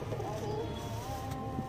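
A pigeon coos softly while being handled, a low rolling murmur held close over a faint background hum, with no speech.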